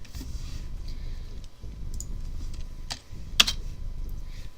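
Fingers type on a computer keyboard at a terminal, a soft continuous clatter of keystrokes with one sharper click, close and fairly quiet, no voices.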